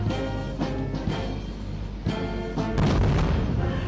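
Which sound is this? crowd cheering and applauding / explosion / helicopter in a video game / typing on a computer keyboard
explosion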